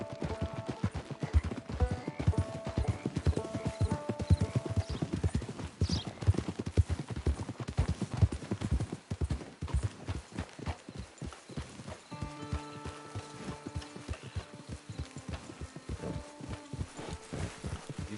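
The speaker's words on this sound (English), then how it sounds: "It's your horse." A horse's hooves clip-clop in a steady, brisk rhythm that carries on throughout, with tonal music or background sounds layered over the footfalls at moderate loudness.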